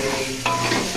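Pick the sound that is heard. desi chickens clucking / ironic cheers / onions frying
onions frying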